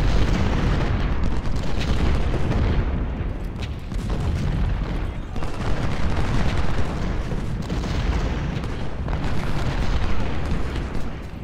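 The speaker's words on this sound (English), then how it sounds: "We have so many cannons though." Cannon and artillery fire in the Civil War strategy game Ultimate General: Civil War at the Battle of Malvern Hill, a dense, continuous rumble of booms and bursts layered over each other at high volume throughout.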